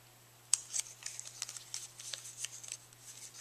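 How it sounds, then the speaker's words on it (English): Scissors snipping the folded edges of paper for a handmade mini album: quiet, close, crisp cuts in quick irregular succession, with light paper rustle between them. "Fold back your edges and cut."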